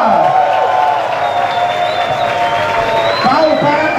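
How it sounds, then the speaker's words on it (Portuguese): Audience applause and cheering at a live club show, a birthday DJ being welcomed, steady and loud throughout with crowd noise and voices mixed in. "aplausos!"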